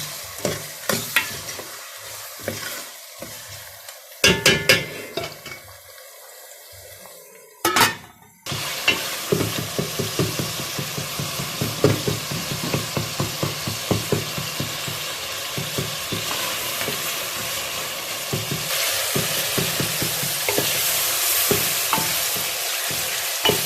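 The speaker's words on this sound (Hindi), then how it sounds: "अब डालेंगे टमाटर, मिक्स करके हम इसको ढकते हैं।" Chopped tomatoes stirred into frying masala for chicken qorma, a loud, continuous sizzle with rhythmic spoon scrapes and metallic clinks against the pot, a sharp burst as they hit the oil, then steady stirring.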